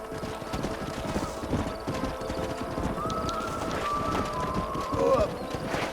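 Horses in the Western video game Red Dead Redemption, rapid hoofbeats clip-clopping in a steady galloping rhythm with a whinny near the end, set against game ambience.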